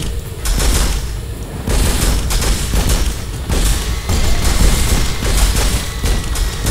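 Gunfire in the Turok video game, repeated bursts of loud shots and booming blasts in uneven clusters, close and punchy with short gaps between volleys.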